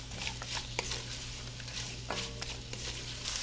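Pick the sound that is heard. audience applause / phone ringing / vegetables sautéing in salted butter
vegetables sautéing in salted butter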